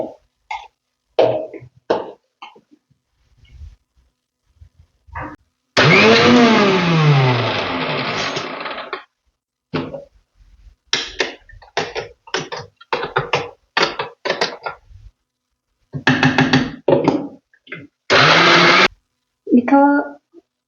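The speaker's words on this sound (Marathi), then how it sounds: "आता याला मी मिक्सरमध्ये पेस्ट करून घेतो" A kitchen mixer grinder blends dal into a paste with red chili powder. It runs in one long whirring burst, then several short pulses, with a person talking in the gaps between them.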